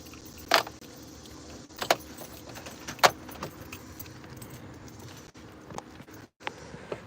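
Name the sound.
keys jangling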